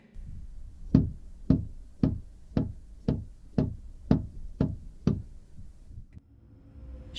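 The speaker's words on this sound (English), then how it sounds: "Then came another sound, a soft tapping on the driver's side window." Soft tapping on a car's driver's side window, nine evenly spaced knocks about half a second apart, close and quiet, followed by a faint stillness.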